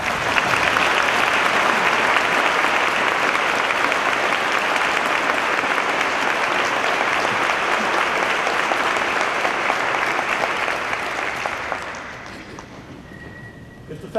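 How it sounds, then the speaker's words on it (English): A commencement crowd applauds the faculty with loud, dense clapping that holds steady for about eleven seconds, then fades out. "Faculty members, please rise and be recognized as we applaud you for your outstanding contributions"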